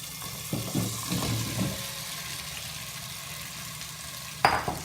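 Pumpkin pieces go into a pan of mashed tomatoes and separated oil for Punjabi khatta meetha kaddu. A soft sizzle runs under a few scraping, stirring thuds, then a sharper splashy clatter near the end.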